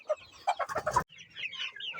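Chickens cluck nearby in a quick series of short, soft clucks, followed by a brief higher chirping call, quiet and close.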